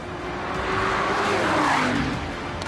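Cars accelerate hard at a racetrack trackday, giving a loud, close engine roar whose pitch rises and then falls as the car passes, with a hint of tyre noise and no talking.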